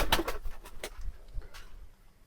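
Lakkha pigeons coo in a few soft, breathy bursts near the start, then fade to quieter, sparse calls with a faint background hum and no voices.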